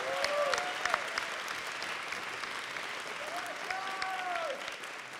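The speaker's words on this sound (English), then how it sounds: "So y'all could just give him a good big old hand of applause" Church congregation applauding at an Easter service, a steady wash of clapping filling the room for several seconds, with faint voices and bits of music-like tones drifting over it.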